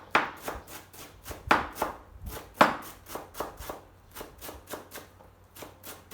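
Steady knife chops on a cutting board as cilantro is sliced small for Vietnamese cooking, a rapid run of crisp, close taps with a few louder strikes, no talking.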